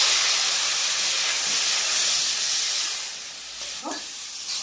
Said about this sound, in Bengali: তো এখন আমি এই আলু ভাজার মধ্যে কিন্তু আমি সজনার ডাঁটা দিয়ে দিলাম